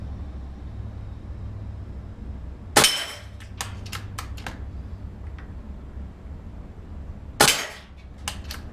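Two sharp, close Benjamin Marauder airgun shots crack about five seconds apart, each followed by a few quick metallic clicks and knocks, over a low steady background hum.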